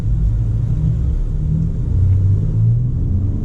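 A 2019 Ford F-150 Limited with the 450-horsepower Raptor V6 gives a loud, deep, steady engine rumble that rises slightly partway through, heard close with no speech.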